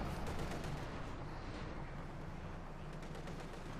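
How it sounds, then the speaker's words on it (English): Tank machine guns rattle in Company of Heroes 2 as T-54 tanks open fire, a rapid, continuous stream of shots heard faint and somewhat distant in the battle mix. "the two T-54s likely will be fully annihilated as they turn about to unleash the whole machine guns on them"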